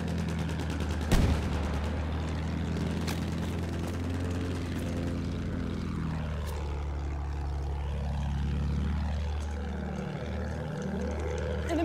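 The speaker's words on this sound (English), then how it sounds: "Aircraft moving around." Propeller aircraft in the Battlefield 1 video game drone steadily for about twelve seconds, with a sharp shot near the start, a pitch that sweeps up and down as planes pass, and battle noise underneath.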